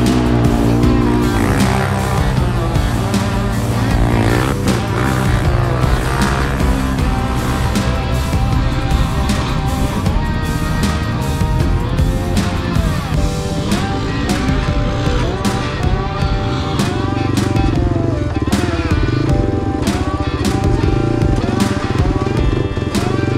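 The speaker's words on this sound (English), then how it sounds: "let me take a spin on his brand new YFZ450R" A brand-new Yamaha YFZ450R EFI ATV rides at the 2023 Badlands Bash off-road event, its loud single-cylinder engine revving hard and continuously, rising and falling with throttle and gear changes and close to the microphone for the whole stretch.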